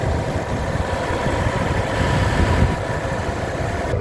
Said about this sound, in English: Okay, shot with the motor running.